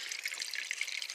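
Water from a washer and spin dryer pours out as it drains, a steady close hissing splash of running water with no talk.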